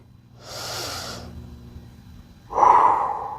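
Deep breathing during a yoga leg-lift stretch: one long airy exhale, a pause, then a louder rushing breath close to the mic.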